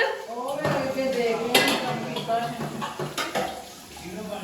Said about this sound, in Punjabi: ਮੰਮੀ ਮਾਜ ਰਹੀ ਹੈ ਭਾਂਡੇ